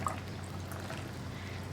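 Tamarind soaked and mixed in water, a lime-sized piece, poured into a pan of snake gourd for Kerala theeyal curry; a soft, faint liquid splash and trickle runs steadily under a constant low kitchen hum.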